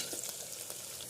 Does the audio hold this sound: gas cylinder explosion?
no